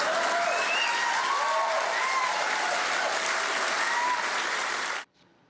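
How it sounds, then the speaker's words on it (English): A large crowd at a political speech applauds and cheers in a steady, loud roar of clapping that holds for about five seconds, then cuts off abruptly. "the crowd is cheering and laughing at Donald Trump"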